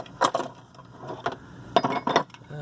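A hammer gives light metallic taps to a circlip going into the front wheel bearing retainer of a 2005 Toyota Sienna, with four or five short clinking hits spread unevenly, close up and moderately loud.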